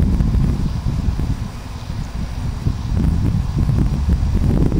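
A Hunter box fan, model 11027, with wide seven-wing blades, blowing air outdoors on a breezy day, giving a steady low rushing whoosh mixed with wind buffeting the microphone, with no pauses or voices.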